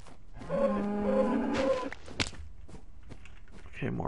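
Several drawn-out cow moos from Minecraft, tonal and close, repeating about three times in quick succession before fading, followed by scattered game noises and a few footstep-like taps.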